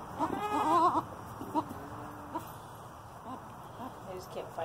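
Newborn twin goat kids and their mother on a ranch, with a loud bleat early on and a few fainter calls after it, mixed in with a person's nearby voice.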